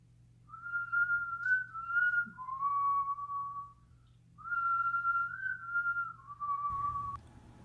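One person whistles a short Christmas ditty close by, two clear melodic phrases separated by a pause, with no other voices.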